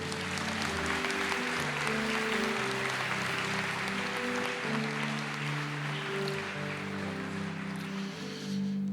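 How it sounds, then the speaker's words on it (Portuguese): A church congregation claps together in a broad, sustained wash of applause, with organ or keyboard chords sounding beneath and a resonant room tone throughout. "Igreja, aplauda ao Senhor."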